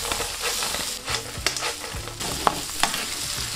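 Crispy potatoes frying in butter with black pepper and salt, giving a close, steady sizzle broken by several scraping stirs of a utensil against the pan, loud and continuous with no talk.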